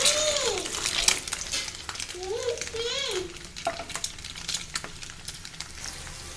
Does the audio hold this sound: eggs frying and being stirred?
yes